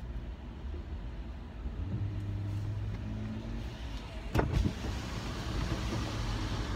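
A car engine idles and then revs, a steady low hum rising briefly with a sharper surge midway, fairly close and moderately loud, with no talk over it.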